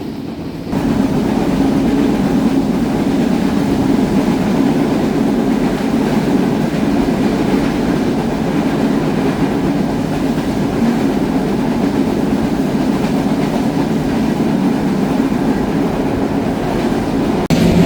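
Banalata Express train running from Dhaka to Rajshahi on a rainy day, a continuous close rumble and rattle of rolling wheels with a steady hum, loud and unbroken with no voices.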